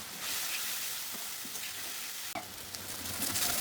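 Ground spice paste with turmeric frying in hot oil for a Bengali katla fish dish, a continuous close sizzle broken by a sharp clatter partway through as it is stirred, with no voices.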